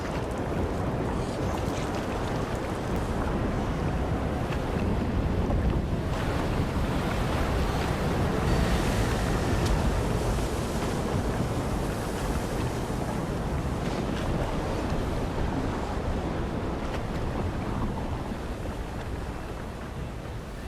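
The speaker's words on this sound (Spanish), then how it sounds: "el viento huracanado levantaba el mar" Stormy wind roars continuously while ocean waves crash and surge, a loud, dense wash of noise with no voices.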